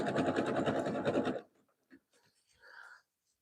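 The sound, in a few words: sewing machine sewing jelly roll rug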